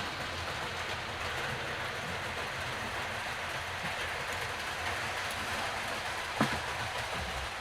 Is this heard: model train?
yes